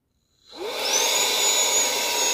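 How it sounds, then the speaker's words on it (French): A MECO mini vacuum blower switches on after a brief silence and runs at a steady, close, loud whine with a high tonal component, holding constant to the end. "Si tu veux mettre en route l'aspirateur, donc il faudra faire un appui long."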